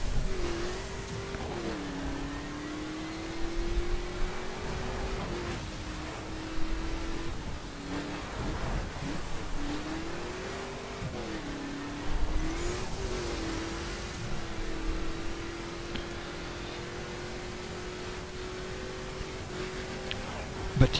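A 1969 Chevrolet Camaro RS in The Crew racing game drones steadily at moderate loudness, its engine pitch rising and dipping through gear changes, while a voice talks over it throughout.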